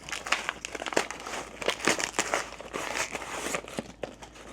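Plastic wrap being torn and crinkled off a packaged pair of sneakers, with loud, close crackling and ripping bursts that continue steadily without a break.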